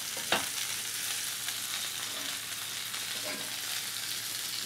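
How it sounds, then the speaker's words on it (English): Meat sizzles steadily in a pan of butter and juices while being basted, a constant close frying hiss with a couple of brief spoon or pan clinks, no talking. "I'm just gonna go ahead and baste it a little bit"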